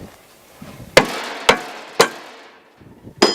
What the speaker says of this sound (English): So a lot of times you got to pound on it a little bit,